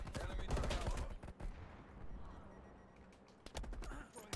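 Bursts of automatic gunfire in Black Ops Cold War multiplayer, close and sharp at the start, then fading into quieter game noise before more shots near the end.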